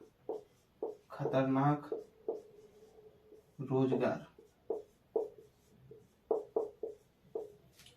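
Notes being written by hand during a Hindi-language class on the Indian Constitution, heard as a steady series of short, close pen or chalk strokes in a rhythmic pattern, with a man lecturing in between.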